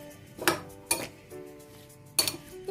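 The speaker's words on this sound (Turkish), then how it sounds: "İyice karıştıracağız şimdi." A metal spoon stirs chopped onion with grape molasses and vinegar in a bowl, giving a few distinct clinks and scrapes against the dish at irregular intervals, close and clear with no talking.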